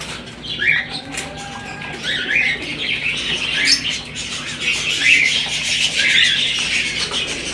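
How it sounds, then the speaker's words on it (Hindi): Pigeons bathe in a water-filled tub, with nearby wing flaps, splashing and scattered chirps and squawks running steadily throughout, with no talking. "डब्बे में बैठ के कुछ कबूतर नहा रहे हैं, कुछ नहा के जा चुके हैं।"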